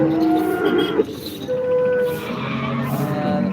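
Cows low repeatedly at a busy Modnimb cattle market, several drawn-out moos overlapping amid crowd noise and general bustle.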